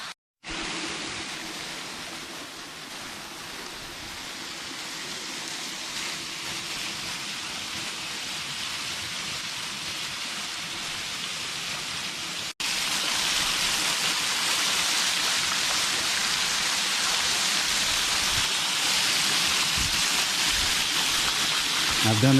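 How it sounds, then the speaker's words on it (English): Alicia Falls, a waterfall in snowy Jefferson County, Kentucky, roars in a steady broad rush, growing louder and closer partway through as the listener moves underneath the falling water. "Underneath the waterfall"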